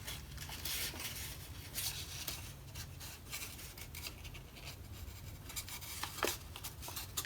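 Paper being folded for an origami dinosaur gives soft, close crinkles and rubbing swipes in a steady series of short bursts, faint and with no talking.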